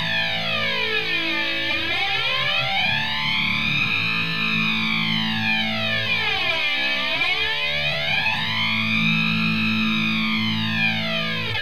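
An electric guitar runs through a Digitech RP155 multi-effects preset with an octave effect, giving a thick, distorted sustained tone with a slow sweeping, swooshing modulation that rises and falls continuously, loud and steady with no talking.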